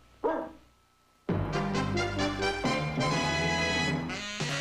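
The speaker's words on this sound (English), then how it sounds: "Good dog." A dog in a television commercial gives one short bark, then after a pause launches into a run of loud, close, repeated barks and yips.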